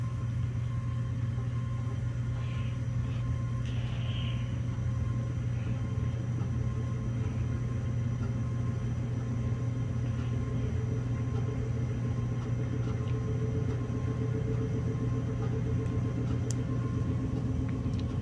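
A cast crankshaft from a Mopar 440 engine, externally balanced, spins on a balancing machine, producing a steady, even mechanical hum and rumble that holds constant throughout.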